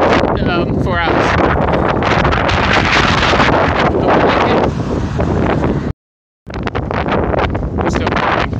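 Strong wind buffeting a microphone while cycling in a breezy south wind, a loud continuous roar and rumble across the whole stretch, briefly cutting out to silence near the end before resuming.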